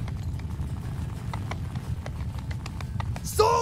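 Massed cavalry horses gallop across a battlefield in Mount & Blade 2: Bannerlord, their hooves making a dense, continuous rumbling clatter, and a horse whinnies sharply near the end.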